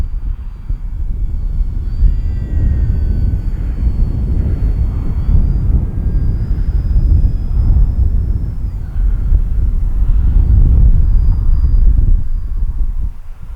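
An ARROWS RC 1100 mm P-51 Mustang electric model airplane flies at about three-quarter throttle into the wind, a steady whining drone in the distance over heavy rumbling wind noise on the microphone.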